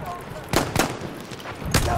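Gunfire in the video game Battlefield 1, a few sharp shots spread across two seconds, two close together then one more, over a busy background of battle noise.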